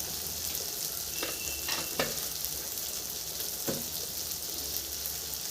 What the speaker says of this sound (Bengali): ভেজে নিই যাতে কাঁচা গন্ধগুলো বেরিয়ে যায়